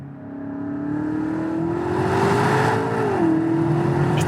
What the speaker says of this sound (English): It doesn't sound like a 625 horsepower M car, the fastest, most powerful M car ever built.